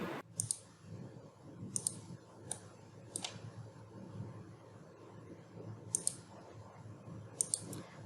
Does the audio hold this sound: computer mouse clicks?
yes